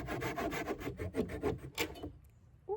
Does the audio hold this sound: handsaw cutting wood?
yes